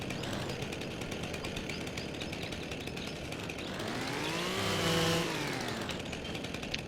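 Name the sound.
chainsaw cutting tree stumps in Farming Simulator 25 video game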